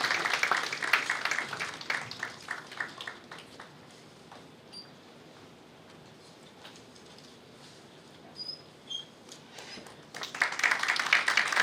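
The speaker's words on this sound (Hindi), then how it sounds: "जोरदार तालियां एक बार हम बजाना चाहेंगे।" An audience at a talk show on mythology and performance gives a guest a warm round of clapping that fades into a quiet lull, then swells again near the end.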